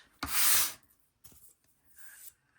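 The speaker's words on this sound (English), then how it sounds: "basically you're just sanding, and with the straight edges in one direction" Hand sanding with sandpaper on small wooden dollhouse bookcase parts, a long loud rasping stroke followed by two shorter, softer strokes, close up with no talking.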